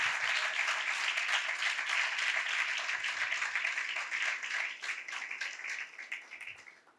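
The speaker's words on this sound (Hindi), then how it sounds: "आओ जोरदार तालियां" Sustained applause from a church congregation during a sermon on Galatians, a dense, even wash of clapping that holds steady and then slowly thins and fades toward the end, with no talking over it.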